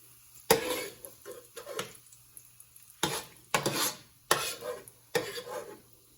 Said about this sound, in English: So I'm going to take out the bacon from the